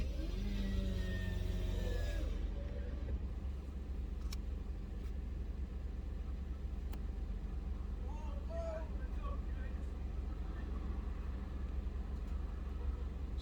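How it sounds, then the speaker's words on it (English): A parking lot at a drive-through heard through an open car window, with a steady low engine rumble and faint passing traffic, plus a few soft distant clinks and voices. "Let us roll down the window and hear the sounds of the parking lot."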